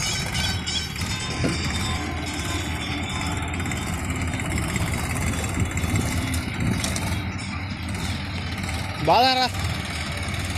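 A Sonalika 740 tractor engine runs steadily at a farm field, a low continuous rumble throughout, with people speaking over it and a brief birdlike chirp near the end.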